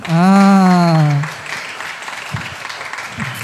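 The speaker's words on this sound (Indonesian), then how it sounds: "Kasih tepuk tangan dong" A drawn-out cheering voice opens a youth and teens worship service at an Indonesian GBI church, then scattered applause from the congregation continues at a moderate, fairly soft level.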